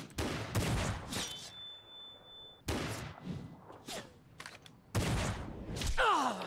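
A sharp gunshot rings out in a Final Fantasy XIV Shadowbringers 5.4 cutscene aimed at the Admiral, one of several loud broadband bursts separated by short pauses, with a whooshing swell near the end.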